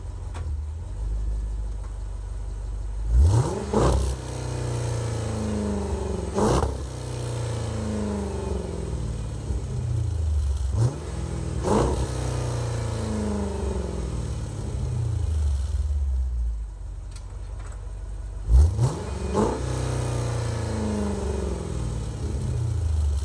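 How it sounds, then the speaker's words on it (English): A Jeep Grand Cherokee Limited 4x4 with a 5.7-litre Hemi V8 revving and pulling away, with several loud rising engine surges and gear shifts separated by brief lulls, heard up close from inside. "I'll do a quick rev for you and take off here."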